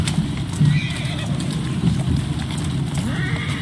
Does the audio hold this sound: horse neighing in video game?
yes